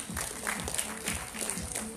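An audience at a beauty pageant semi-final in a Kuching shopping mall claps for a sponsor, fairly faint and steady clapping, with a few voices mixed in.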